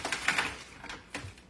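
Candied nuts clattering and skittering onto a metal baking sheet in a couple of quick bursts, close by and brief.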